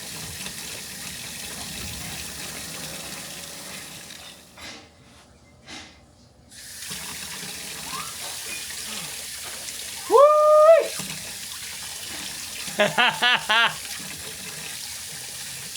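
Water runs steadily from an off-grid sink tap, broken by brief pauses and a few short voice sounds.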